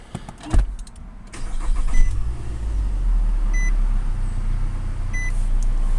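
A 2009 Nissan Altima 2.5 S is started with its push button: a couple of soft clicks and chimes, then the engine cranks and catches, settling into a steady, low idle rumble close by with faint dash beeps.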